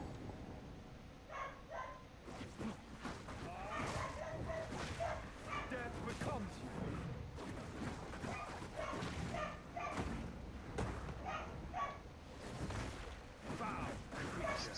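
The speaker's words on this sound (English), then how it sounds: "Sounds like the dogs are excited down there, as always." Excited barking from border collie dogs somewhere below, a jumble of repeated barks and yips mixed with ongoing speech and game sounds throughout.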